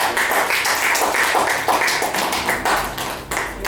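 An audience applauds in rhythmic, pulsing bursts of clapping that stay loud and continuous, with no voices over them.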